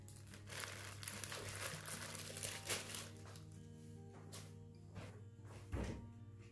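A plastic zip bag is handled up close in a kitchen, crinkling and rustling in bursts with a few soft thunks and quiet pauses between handlings.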